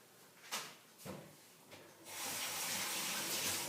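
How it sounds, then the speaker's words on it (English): Hands washed under a running kitchen tap after making walnut nut milk: a few soft knocks and splashes, then a steady, close rush of flowing water that continues to the end. "Quickly have to wash my hands"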